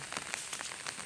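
Steady rain pours down on a farm, a dense, even hiss with scattered louder drops tapping nearby, no voices.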